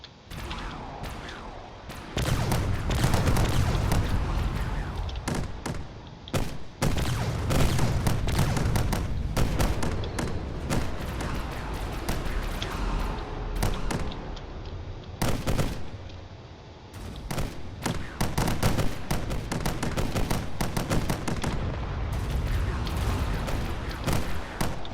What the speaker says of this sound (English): A lot of missiles being exchanged on both sides.